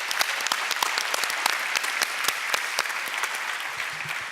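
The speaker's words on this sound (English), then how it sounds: "Let's give them once again a big applause for their contribution and participation." Audience applause for conference panelists at a plenary session in Bilbao: a hall full of hands clapping steadily, with sharp individual claps standing out in a continuous patter, moderately distant.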